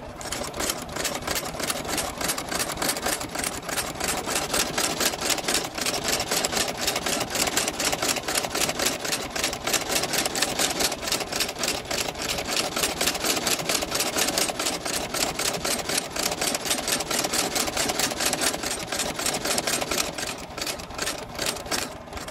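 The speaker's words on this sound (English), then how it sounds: "We are going to go ahead and stitch this on a Landis L outsole stitcher." A Landis L outsole stitcher sews the sole onto a pair of old snakeskin cowboy boots. Its rapid, even mechanical clatter runs continuously and loud up close for the whole stretch.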